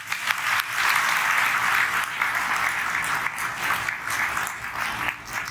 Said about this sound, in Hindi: भजन बढ़िया लगा, एक बार जोर से ताली बजा दी।